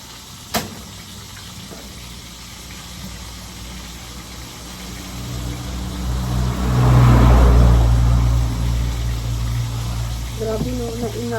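Cars pass on a busy street beside a Divisoria market in Manila, the engine roar building to a loud nearby pass around the middle before easing off, with a faint horn-like tone near the end.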